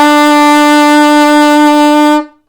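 Middle B rings out on an alto saxophone as a single clear, steady sustained tone of a little over two seconds, then stops cleanly; the instrument plays alone.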